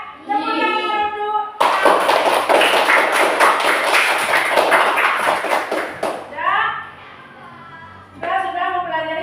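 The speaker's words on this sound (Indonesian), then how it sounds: "Tepuk tangan dulu" Children in a classroom clap their hands together in a loud, rapid, sustained burst lasting several seconds, with a teacher's voice and children's voices heard before and after.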